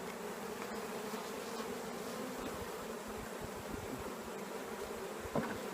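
Honey bees swarm around an open backyard hive, a dense continuous buzz close by with no voices and one brief knock near the end.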